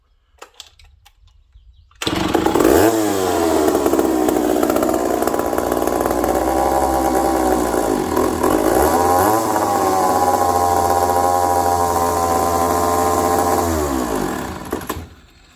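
McCulloch 1-71 chainsaw engine starting after a brief quiet moment, then running loud and close with a rough buzzing roar that revs up and down for over ten seconds before dying away.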